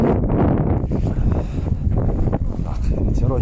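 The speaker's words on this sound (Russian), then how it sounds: "Так, ветер у нас сильный." Strong wind buffets the microphone outdoors, a loud, continuous low rumble with gusty surges that stays close and dominant throughout.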